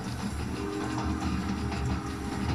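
A train starting to move: a steady low rumble and wheel clatter, close and continuous, with no talking.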